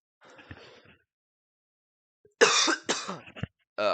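A few harsh coughs close up, the first faint, followed by a louder cluster of coughs and throat clearing.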